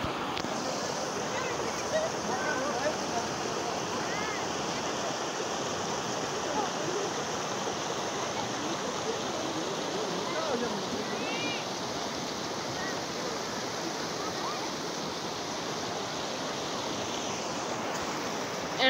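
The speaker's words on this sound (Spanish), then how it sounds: "Este es el río." A river in Catamarca, Argentina flows with a steady, broad rushing wash that fills the whole stretch evenly and close by, with some talking faintly present beneath the water.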